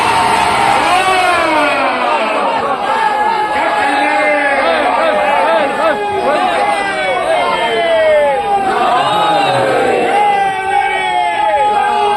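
At a Muharram majlis in a Bhopal imambara, a large crowd raises loud overlapping shouts of a religious slogan, a continuous roar of many voices rising and falling in waves, close and dense throughout.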